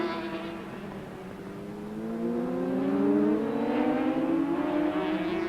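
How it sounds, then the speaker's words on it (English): Racing motorcycle at the 1990/91 Neil Robinson memorial road race, accelerating hard out of a hairpin, its engine note rising steadily through the gears, fairly close and loud, with no talk over it. "Rob McElnay blasts out of the hairpin onto the start and finish straight"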